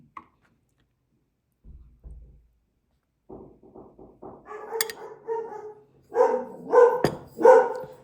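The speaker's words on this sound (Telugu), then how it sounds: "సారీ అండి, మా డాగ్" A pet dog barks indoors at home, a few soft low woofs at first and then a run of louder, rapid barks, fairly close and with no talking over it.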